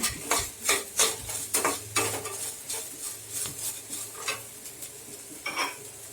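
Spoon stirring and sautéing carrots, beans and other vegetables for rava upma in a pan, repeated scraping strokes in an uneven rhythm over a soft sizzle, close and fairly quiet.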